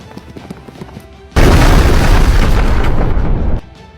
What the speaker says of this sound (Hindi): दुश्मनों ने तोपों से हमला किया